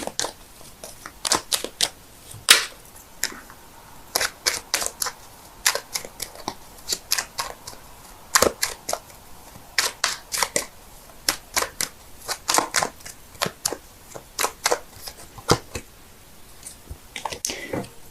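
Tarot cards shuffled by hand in a quiet room, a long run of crisp, sharp riffling bursts and slaps that come in irregular clusters, close up and with no talking.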